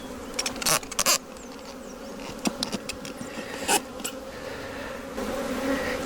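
Honeybees buzz around an opened hive during a May inspection, a constant near drone broken by several sharp bumps and handling knocks.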